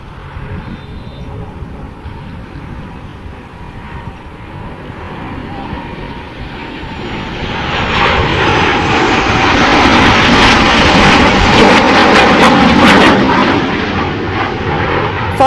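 Netra formation aircraft flying past at an air show, a distant jet roar that builds into a loud, broad rumbling swell as the planes pass overhead, then holds strong near the end.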